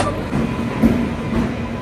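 The Karnataka Sampark Kranti Express, train 12650, pulls slowly into a platform with a low continuous rumble and faint clanks, close by, with no speech.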